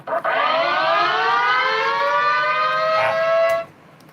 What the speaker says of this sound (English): I'm making a 611 port Siren just for kicks and giggles